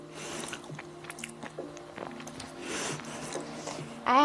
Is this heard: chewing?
yes